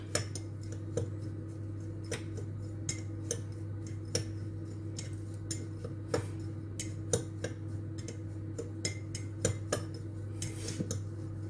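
A cheese mixture for a butternut squash and leek tart being stirred quickly in a bowl, with a regular run of light utensil clicks and scrapes over a constant low hum.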